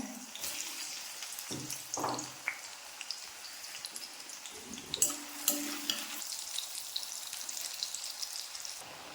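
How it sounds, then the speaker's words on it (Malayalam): Beetroot pieces frying in sesame oil for pickle, a steady close sizzle with bubbling crackle and occasional stirring scrapes and clinks, no talking. "കുറേശ്ശെ ഇട്ടൊന്ന് വറുത്ത് കോരി എടുക്കാമേ."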